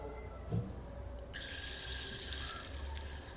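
Water runs and splashes over an arm during wudu washing, a soft trickle that brightens into a steady, fuller stream of running water partway through, close by, with a short thump early on and no talking.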